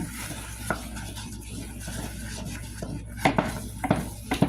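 A wooden spatula works through a thick, sticky homegrown corn mixture in a pot, soft scraping and thick stirring strokes building to sharper knocks and scrapes near the end, close and unvoiced.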